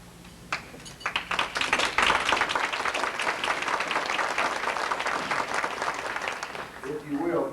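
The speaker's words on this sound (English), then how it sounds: "please hold your applause so we can all see them" An audience at a church's 175th anniversary celebration breaks into broad applause for standing guests, a dense crowd clapping that swells quickly and holds steady while a voice speaks over it, then tapers.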